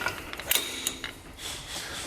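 A Hunter tire changer clamping a wheel in a workshop gives a short burst of close mechanical clicks and ratcheting clatter, followed by a low machine hum, with no voices.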